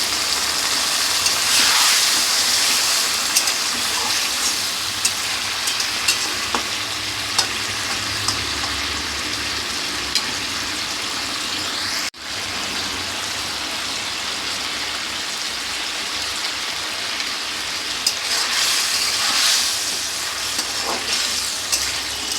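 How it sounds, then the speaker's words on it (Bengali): Broccoli cooking in a hot pan after a splash of water, giving a steady, loud hiss and sizzle that carries on without a break, like heavy rain. "এবার একটুখানি জল দেব।"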